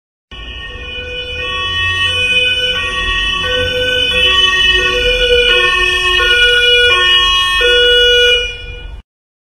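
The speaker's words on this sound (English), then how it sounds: "Ambulance." An ambulance siren wails loudly and steadily for several seconds, its tones rising and falling and stepping between pitches, with no voices over it.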